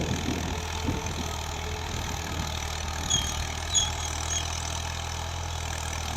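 A Ghazi 65 hp tractor engine runs steadily in an onion field in Punjab, Pakistan, a constant low diesel drone with a slight knocking rumble, close and even, with no talk.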